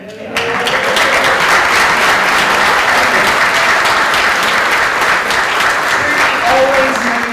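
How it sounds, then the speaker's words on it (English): Steady, loud applause from an audience at a church gathering of Lutherans, starting abruptly and sustained evenly throughout with dense clapping and no talk. "Please give everyone a round of applause"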